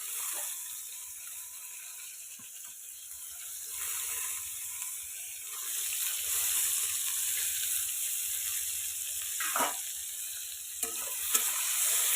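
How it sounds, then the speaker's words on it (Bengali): Salted, turmeric-coated brinjal slices fry in hot oil in a wok, giving a steady close sizzle that swells and crackles with occasional clinks, with no talk. "তেলটা গরম হয়ে গেছে এবার বেগুন ভাজাটা তুলে দেবো"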